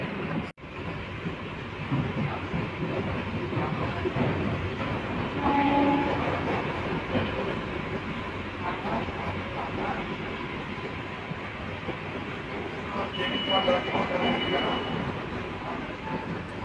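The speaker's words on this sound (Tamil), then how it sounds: "ஸோ நம்ம ட்ரெயின் பார்த்தீங்கன்னா சூப்பராக சென்னை பீச்சிலேருந்து கிளம்பிச்சு" An air-conditioned local train running out of Chennai Beach, heard from on board: a continuous loud rumble with rail clatter and a couple of brief horn-like tones, and voices talking faintly under the noise.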